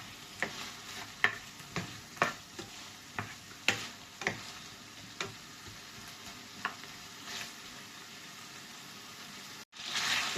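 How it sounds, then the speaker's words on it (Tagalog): Lean pork-style meat for adobo frying in a pan with almost no oil, a soft steady sizzle broken by repeated sharp ticks and pops, fairly quiet and close, with no one talking. "Iprito po muna natin ang ating karne."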